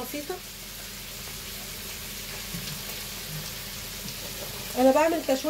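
A steady, close sizzle of ingredients sautéing in a pan while chicken panné is prepared, with a brief clatter near the end.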